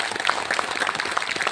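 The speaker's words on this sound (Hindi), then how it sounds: "एक बार जोरदार ताली बजा दीजिए" An audience at a convention hall event in Nagpur applauds loudly, with dense, continuous clapping from many hands.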